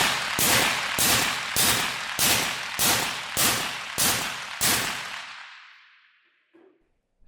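Eight sharp suppressed shots from a Springfield Armory SOCOM 16 EBR rifle fired at an even pace about every half second, each a loud broadband crack with a short tail, followed by a fading echo into near silence.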